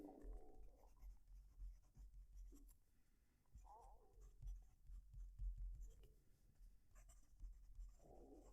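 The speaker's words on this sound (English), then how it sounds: "I'm going to reposition the mic next to the paper and then write so you can hear the" An Opus 88 Koloro pen writes on paper close to the microphone, giving soft, intermittent scratching strokes in short bursts with brief pauses between them.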